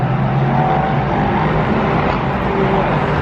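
A race car rolls out of inspection at Daytona International Speedway during the Roar before the Rolex 24, its engine a steady, fairly loud drone with no talking over it.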